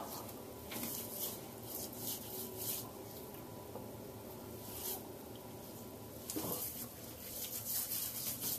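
Soft, steady rubbing of Neutrogena Deep Clean Cream Cleanser onto skin, a faint close brushing texture that continues evenly with slight swells.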